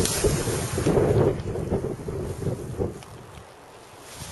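Gusty storm wind roars and buffets against the microphone at a campsite, rising in strong surges then easing off into a quieter rumble.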